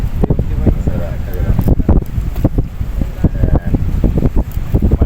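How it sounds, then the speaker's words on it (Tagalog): Steady wind buffeting the microphone while fishing by the sea, loud and rumbling throughout, with people talking over it. "Mahangin."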